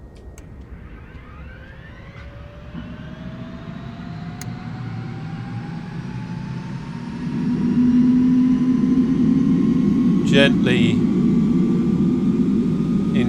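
Simulated HH-65 Dolphin Coast Guard helicopter in MSFS 2024, engine one spooling up: a steady turbine whine rises in pitch over a low rumble that swells louder partway through, with a few brief clicks near the end.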